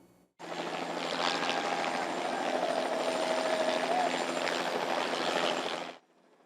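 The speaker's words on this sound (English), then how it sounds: "attendees were still able to see the Golf Balls from Heaven helicopter ball drop" A steady, loud helicopter roar with a rushing, thumping drone holds for several seconds during a golf ball drop at a street fair, then cuts off abruptly.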